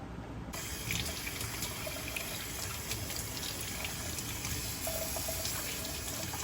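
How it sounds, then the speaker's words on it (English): Tap water runs steadily into a kitchen sink while fresh homegrown tomatoes are rinsed for homemade salsa, a continuous close splashing trickle with no talk. "the first thing you're gonna do is wash off all your tomatoes"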